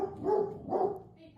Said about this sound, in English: That tone, the bark is very characteristic